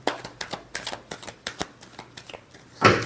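Tarot cards are shuffled by hand in quick, rhythmic riffling bursts, about a dozen crisp flutters spaced through the clip, ending with one louder, fuller shuffle, close up with no talking.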